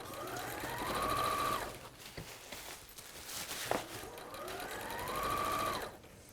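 A sewing machine stitches a seam, beginning with a reverse stitch. It whirs in two steady bursts with a quiet pause between them, and the motor hum rises and falls.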